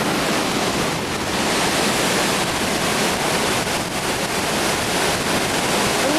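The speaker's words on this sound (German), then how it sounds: "Habe ich heute mal an den Wasserfall herangewagt." A loud, steady roar of a rushing waterfall fills the scene, constant and close, with no voices.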